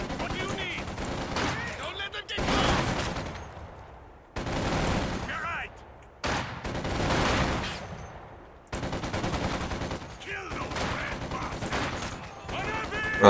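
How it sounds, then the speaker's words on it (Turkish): Bomb explosions and battlefield fire in Company of Heroes 2, loud broadband blasts erupting every couple of seconds, with crackling combat noise between the bursts. "Bomba attık."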